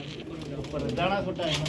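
Pigeons in a rooftop loft, with soft low cooing under steady background noise and a faint murmur.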